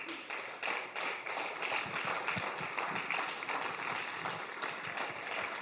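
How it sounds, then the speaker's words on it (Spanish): A church congregation claps together, a steady, fairly distant run of applause lasting several seconds. "denle un aplauso a Cristo"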